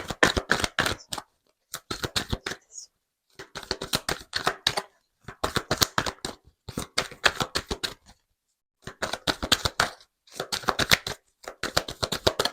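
Tarot cards are shuffled in repeated riffling bursts, each a quick run of crisp flicks separated by short pauses, close and fairly loud with no talking.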